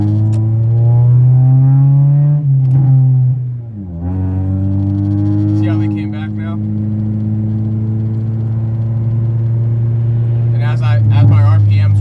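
A car accelerating hard with the throttle floored, a loud close engine drone whose pitch climbs steadily, briefly drops as if shifting, then rises again, with a voice speaking over it.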